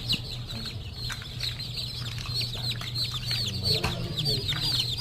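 A crowd of newly hatched chicks in a second hatch batch cheeps steadily and shrilly up close, overlapping peeps forming a continuous chorus with a low hum underneath.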